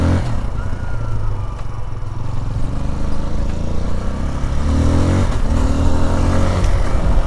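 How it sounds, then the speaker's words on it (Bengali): A Kawasaki KLX 150 motorcycle rides along a rough road toward Tindu near Thanchi, Bandarban, its engine droning loud and steady with wind rush and some clatter, swelling slightly near the end. "এবার বাইক হচ্ছে কাওয়াসাকি KLX 150"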